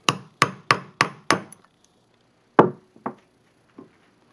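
A hammer knocks the wheel spacer out of a Razor A5 Lux kick scooter wheel, five evenly spaced sharp metallic blows, a pause, then three more spaced, fading taps, close and loud.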